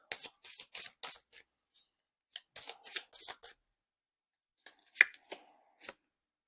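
Oracle cards being shuffled and drawn, crisp papery riffles and flicks in short clustered bursts separated by silences, close and quiet.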